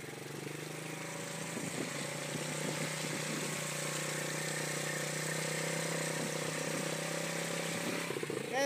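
A quad bike engine drones steadily nearby as it drives through muddy water, holding an even mid-pitched hum that grows slightly louder toward the end.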